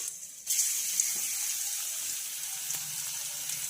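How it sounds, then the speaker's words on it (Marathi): Cumin, mustard seeds and garlic hit hot oil in a kadhai, setting off a steady, moderately loud hiss of sizzling that starts abruptly and continues evenly with faint crackles, alone without talk. "कढईमध्ये मी तीन चमचे तेल घातलेलं आहे तेलसुद्धा छानपैकी तापलेलं आहे तर आपल्याला सर्व प्रथम इथं आपल्याला जिरे मोहरी आणि लसूण घालायचं आहे"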